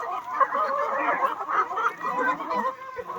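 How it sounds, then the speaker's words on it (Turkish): A flock of young roosters and hens clucks and murmurs continuously nearby in a coop, a dense, steady chatter of overlapping calls. "Genç horozlarımız."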